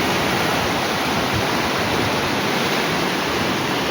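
Floodwater pours over a dam in a steady, dense rush of white noise, loud and unbroken, with no voices over it.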